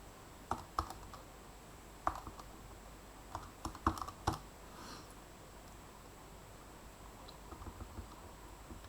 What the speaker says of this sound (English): I'm just going to work it out on my calculator.